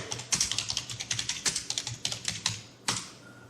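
Someone types a search query on a computer keyboard: a quick, irregular run of sharp key clicks, close and fairly loud, ending with a firmer keystroke and no talking.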